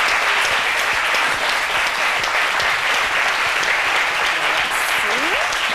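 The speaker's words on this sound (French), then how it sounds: "Donc je vous demande de l'applaudir." A studio audience on a French-language midday TV show claps loudly and continuously for a guest, a thick sustained roar with a voice briefly audible near the end.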